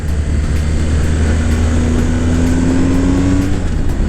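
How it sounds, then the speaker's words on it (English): A 2019 BMW R1250GS Adventure ridden on a road in dynamic engine mode gives a loud, steady engine drone with a slowly rising tone, plus wind rush, heard close with no talk. "So now I'm riding right now in dynamic suspension and dynamic engine settings."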